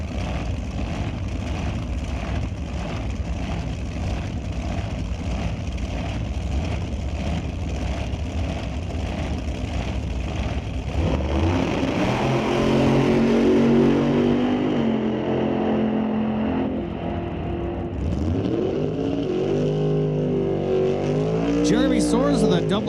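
An NHRA drag racing dragster rumbles loudly at idle at Mission Raceway Park, then roars with rising revs as it launches down the strip, an announcer talking over it.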